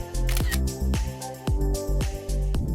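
A camera shutter fires repeatedly, about eight crisp mechanical clicks in quick succession, as photos are taken of scratches on a car.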